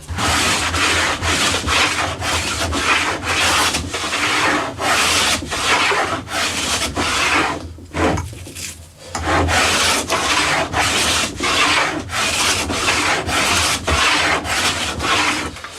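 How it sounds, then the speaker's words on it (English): Hand plane shaving the wood of a Les Paul Junior style guitar body, loud rhythmic rasping strokes repeating about once a second, with a brief pause partway through. "Planing on a slight glide angle, or an angle, actually takes more wood off more quickly."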